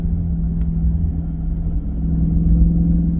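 A 2023 Chrysler 300C with its 6.4-liter HEMI V8 cruising in fifth gear, heard from inside as a steady, deep engine and exhaust drone that swells slightly toward the end, with no talking.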